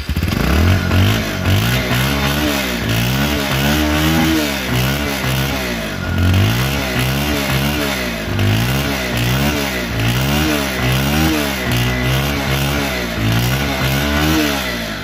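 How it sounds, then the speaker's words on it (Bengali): A used Bajaj Pulsar 150cc motorcycle in fresh condition runs close by, its engine rising and falling through repeated revs in a steady rhythm over a loud rough idle, with no talking. "এখন দেখো বাইকটির সাউন্ড কোয়ালিটি এবং পারফরম্যান্স।"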